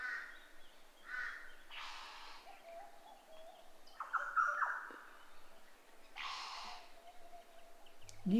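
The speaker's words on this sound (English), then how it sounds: "All through the tops of these trees are birds," Birds call from the treetops of Cape York woodland, a handful of separate harsh, crow-like calls spaced out over a steady background hum, fairly distant and moderate in volume.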